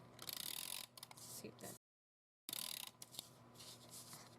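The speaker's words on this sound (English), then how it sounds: "this is a Xyron Mega Runner" A Xyron Mega Runner adhesive tape runner rolling across card stock, close ratcheting mechanical whirs in short bursts, broken by a full gap of silence before more runs resume.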